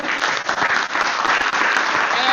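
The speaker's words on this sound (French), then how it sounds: "Je propose qu'on applaudisse Léa par avance" Brisk applause from an audience at a presentation of a logistics survey, many hands clapping in a steady, fairly close burst lasting a couple of seconds, with a hint of voices beneath.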